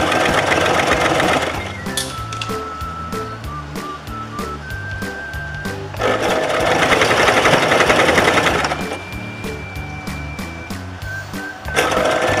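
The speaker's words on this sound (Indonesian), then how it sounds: "Kemudian kita jahit pelan-pelan." A sewing machine stitches a split collar on fabric in a tutorial setting, running in loud sustained bursts with brief pauses and a faint whistling tone over it, alone with no talk.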